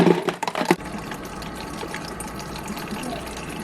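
A gallon water jug fills from a tap, starting with a few loud splashes and gurgles before settling into a steady, even rush of running water.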